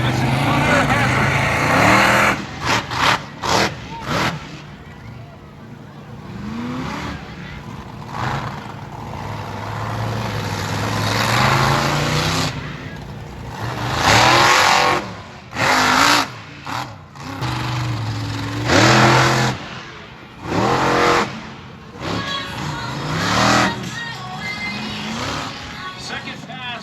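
Fire Hazard, a monster truck, revs hard through a wheelie competition run, its engine surging and dropping in repeated loud bursts with announcer talk and crowd noise in between.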